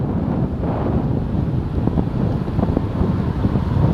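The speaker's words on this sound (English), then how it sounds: "Oh, windy." Wind buffets a microphone outdoors during a bike ride, a steady low rumbling roar with gusty swells throughout, no voices heard.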